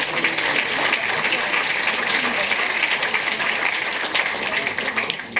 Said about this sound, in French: Voilà, on peut encore les applaudir.